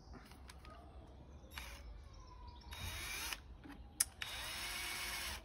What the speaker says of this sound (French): j'ai une petite perceuse pour visser plus rapidement